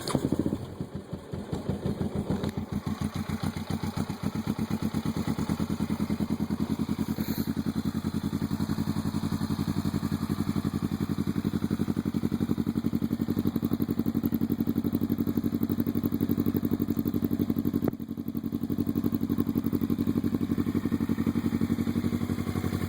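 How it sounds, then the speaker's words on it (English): A Suzuki GS500F motorcycle engine fitted with dual Yoshimura TRS mufflers idles steadily and close by. Its low, even exhaust rumble and chugging pulse run unbroken from start to finish, and no one speaks. "Alright, we'll go ahead and turn everything on."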